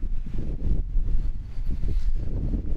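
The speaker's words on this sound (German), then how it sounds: "Und man merkt auch langsam, dass der Sturm uns näher kommt. Also es wird deutlich windiger." Strong, gusting wind blows steadily across the microphone on a hike along the Baldeneysteig in Essen as a storm approaches, a loud low roar that surges and eases without pause, with no talking.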